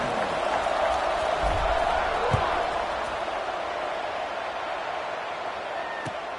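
A stadium crowd roars steadily in a college football video game, UNC versus Tennessee, as a kickoff gets underway; the dense, continuous cheering stays loud throughout with a couple of brief thumps near the middle and end.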